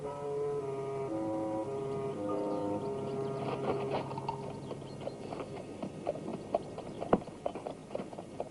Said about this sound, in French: C'est un de leurs chevaux, Seigneur.